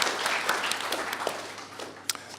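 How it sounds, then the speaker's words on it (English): Scattered applause from a small crowd, a few seconds of uneven clapping with sharp individual claps standing out. "a round of applause"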